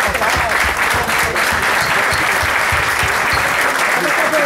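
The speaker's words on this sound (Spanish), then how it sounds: "15 segundos nada más de aplauso." Sustained applause from an audience at an international expo, dense and steady clapping filling the whole stretch, loud and close with a faint murmur of voices mixed in.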